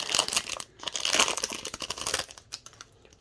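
Crinkling foil wrapper of a Magic: The Gathering Brothers' War booster pack being torn and opened, a close run of crackly rustles with short pauses and a few sparser crinkles near the end, no voices.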